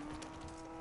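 Horse hooves clip-clopping in Red Dead Redemption 2, soft and fairly faint steady steps heard alone beneath a constant low hum.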